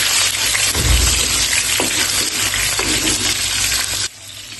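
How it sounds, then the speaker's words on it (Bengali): Tomato pieces frying in a pan for a fish curry, a steady close sizzle running throughout with a few clinks of utensils, then dropping abruptly quieter near the end. "দিয়ে দিচ্ছি কয়েক টুকরা টমেটো। ভালো করে ভেজে নেব।"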